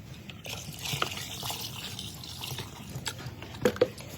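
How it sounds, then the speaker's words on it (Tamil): Cow urine is poured into a panchagavya mixture of dung, ghee, milk and curd, giving a soft, steady liquid trickle and splash with a few sharper drips near the end, fairly quiet and with no talk. "இப்போ அடுத்து கோமியத்தை ஊற்றுறோம்"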